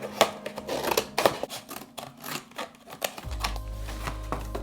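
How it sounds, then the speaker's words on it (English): Scissors snip through a cardboard box to remove its top part, giving a rapid run of crisp, close cutting clicks and crunches that pause, then resume before a low hum takes over. "We need to get rid of the top part of this box, so I will just cut it out."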